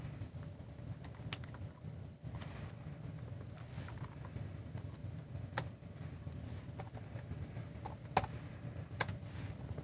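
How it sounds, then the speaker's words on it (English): Someone types code on a computer keyboard, making quiet, irregular key clicks with an occasional sharper tap over a low background hum. No voices are heard. "I can go through and still type it in."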